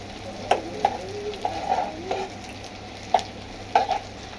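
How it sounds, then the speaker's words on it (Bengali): Chopped onion, garlic and a few dried chillies tempering in hot mustard oil: a close, low sizzle punctuated by about seven sharp spatula scrapes and taps against the pan, no talking. "আবার একটু সরিষার তেল দিয়ে এর মধ্যে পেঁয়াজ আর রসুন কুচি আর কয়টা শুকনো মরিচ"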